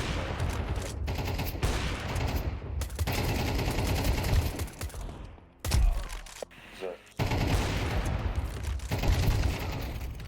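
Rapid video game gunfire in a multiplayer shooter, loud dense bursts of automatic fire and cracks that run almost continuously, broken by a short lull before the shooting resumes.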